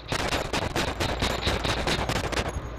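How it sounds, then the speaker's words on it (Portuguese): Rapid automatic gunfire in the Manhunt video game, a dense, continuous rattle of loud shots sustained throughout with no talking. "Nossa, meu tiro matou os dois aqui."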